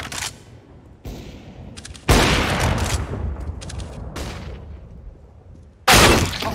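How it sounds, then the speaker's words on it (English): Grenade and flashbang blasts from the Counter-Strike: Global Offensive video game: two loud, sharp explosions several seconds apart, each trailing into a rumbling decay, with quieter gunfire-like crackles between them. "Grenade out. Deploying flashbang."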